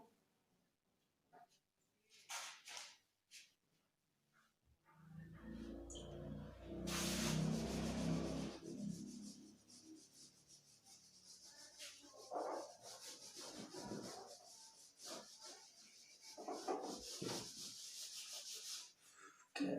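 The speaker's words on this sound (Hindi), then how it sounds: "थोड़ा रब कर लूँ बोर्ड को।" A marker board being rubbed clean with steady scrubbing strokes, close and moderately loud, following a few scattered knocks and handling noises.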